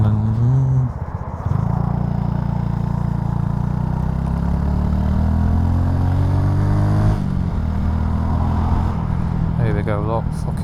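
A Honda Super Cub C125 with a 37-tooth JT rear sprocket fitted revs in third gear: a steady, close engine whine rises gradually in pitch, drops, then picks up again, with no talking.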